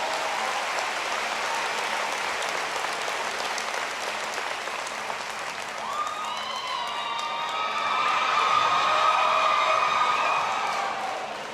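Town hall audience in North Carolina applauding, dense clapping and some cheering throughout, with a siren-like wail rising over the crowd in the second half.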